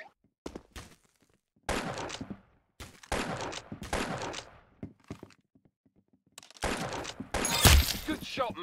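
Gunfire rings out in several separate bursts of loud, sharp shots, with short gaps and quiet stretches between volleys and a final heavy crack near the end.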